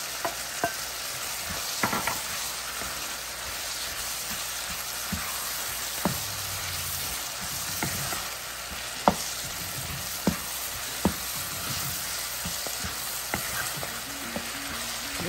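Diced scallions fry in a pan with a steady broadband sizzle, broken by occasional clicks and scrapes of stirring, close and continuous throughout with no talking.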